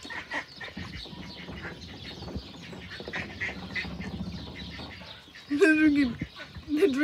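Ducks on a house roof quack and chatter in a low murmur, then a louder, nearer burst of calls breaks out toward the end, with a person speaking faintly in the background.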